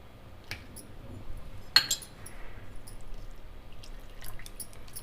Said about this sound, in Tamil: இட்லி மாவு பதத்துக்கு வர அளவுக்கு கலக்கிக்கலாம்.